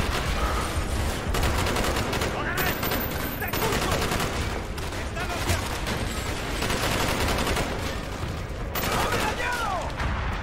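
Sustained gunfire fills a Black Ops 1 campaign battle, with dense overlapping rifle and machine-gun bursts popping continuously at close range, and voices shouting over the shooting throughout.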